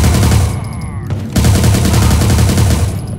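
Rapid automatic gunfire in a shooter video game, loud dense bursts of shots with a short gap in the middle, close and dominant.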